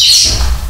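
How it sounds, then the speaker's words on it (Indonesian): Birds squawk and call in the morning, a loud harsh cry at the start fading into softer low rumbling background, with no talking. "pagi-pagi dengar suara burung"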